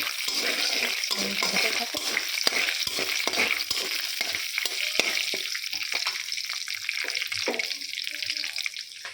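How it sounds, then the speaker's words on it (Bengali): Cumin, ginger, green chili, garam masala and bay leaf tempering in hot oil for a cauliflower curry, a steady close sizzle broken by sharp crackles and spatters, continuing alone without talk. "জিরা, আদা, কাঁচা লঙ্কা এখানে ফোড়ন দিচ্ছি, গরম মশলা, জিরা আর তেজপাতা"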